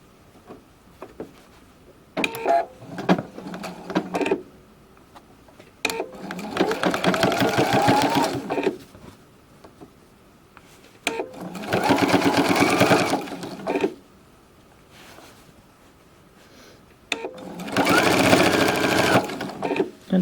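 A sewing machine stitches a fabric flange in three long bursts of rapid, steady running, separated by quiet pauses and brief handling noises.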